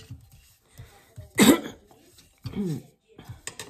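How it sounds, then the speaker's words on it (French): A single sharp cough bursts out between quiet stretches, with soft voices and small sounds nearby. "j'ai une petite toux hein, parce que j'ai été malade"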